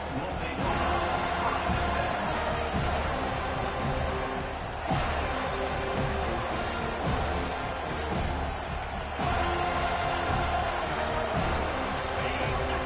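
A stadium crowd roars continuously in a College Football 25 game between the Wildrunners and California, a broad cheering wash sustained beneath play-by-play commentary.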